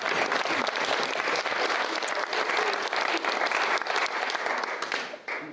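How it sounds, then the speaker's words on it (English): A crowd at a speech event gives a long, loud round of applause, thick continuous clapping that holds steady for several seconds and then tapers off at the close. "give a round of applause to these guys"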